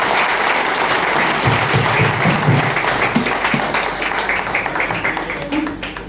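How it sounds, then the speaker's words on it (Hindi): Loud, sustained applause from a stage-event audience fills the stretch, clapping swelling as a performer is called to the stage, with a host's voice and crowd noise mixed in. "तो आप जोरदार तालियों के बीच में मैं बुलाने जा रहा हूँ ऑल रॉयल्टी अचीवर"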